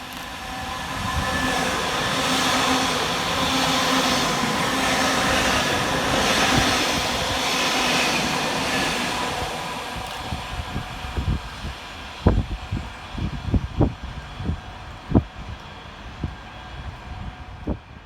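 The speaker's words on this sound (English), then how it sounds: "Passing fast through the station for Northern is 331-023 and 331-019" Northern Class 331 electric units running fast through a suburban station in the rain, a loud rushing roar that fades into a rapid clickety-clack of wheels over rail joints.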